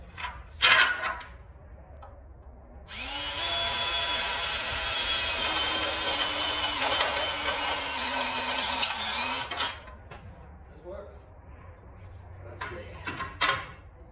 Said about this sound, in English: I'm just going to drill another damn hole.